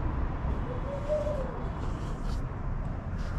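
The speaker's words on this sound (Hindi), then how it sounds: "ये परिंदों की आवाज़ सुन रहा था वहाँ पे," Faint calls of doves and small birds, including a soft coo, over a steady outdoor background hum.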